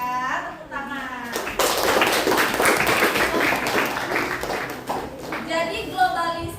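A classroom of children applauds a student during a lesson: a burst of quick, crowded clapping in the middle, with a teacher's voice speaking just before and after it.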